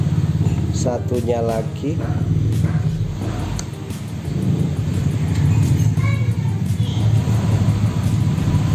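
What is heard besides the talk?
many cars passing by on the street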